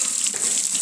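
A home shower mixer fed by a water heater runs steadily, a close, loud hiss of flowing water with no voices.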